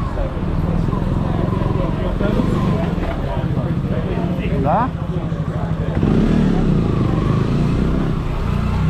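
Motorcycle engines rumble and rev at a motorcycle bar in London, a dense, continuous close engine drone under people talking.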